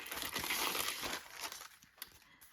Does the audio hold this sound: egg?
no